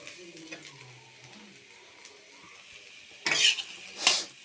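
Food fries in an iron kadai with a quiet sizzle, then two sharp metallic scrapes of stirring ring out near the end.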